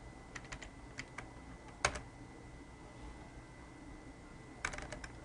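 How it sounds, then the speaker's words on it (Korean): Keys are tapped on a computer keyboard during tax accounting software work, with a few soft, scattered clicks and one sharper press in a quiet room. "그 다음에 F2키 눌러서"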